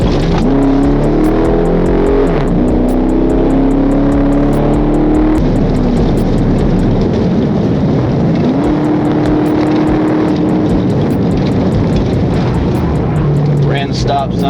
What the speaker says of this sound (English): then sped down a straightaway like he was in a drag race